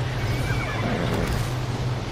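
A horse whinnies in the Ark: Survival Evolved video game, a wavering call in the first second over a steady low engine-like hum and constant game ambience.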